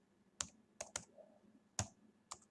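Typing Python code on a computer keyboard: a handful of sharp, close key clicks, spaced irregularly, in a quiet room with no speech.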